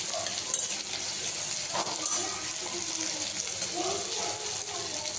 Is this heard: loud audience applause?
no